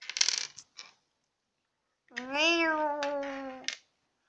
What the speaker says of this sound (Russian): Ой, кошка.